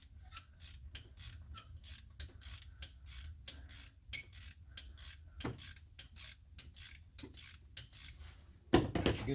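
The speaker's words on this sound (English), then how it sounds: "So, remove our spark plug." Spark plug being removed from a Chevy Traverse engine with a ratchet and socket, giving a quick series of sharp metallic clicks in rhythmic bursts close by, ending in a louder clatter of metal.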